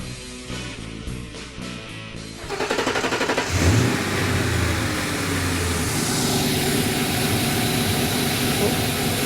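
A 1996-2004 Ford Mustang engine with a newly installed BBK throttle body and intake plenum cranks, catches and revs briefly, then settles into a steady, close rumbling idle that continues without speech.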